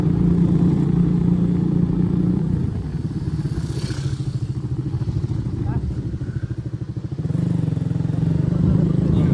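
A motorcycle ride heard from the bike itself: a steady, close engine drone with rushing wind that dips and roughens midway before settling back to an even rumble.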